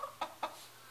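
A backyard laying hen gives two short, close clucks a fifth of a second apart over a quiet background, with no talk.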